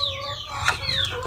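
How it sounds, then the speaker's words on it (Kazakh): A broody hen in a farmyard clucks close by in a run of throaty clucks, with a few sharper calls breaking through the steady sound. "Осындай тауығым күрік болып қалды"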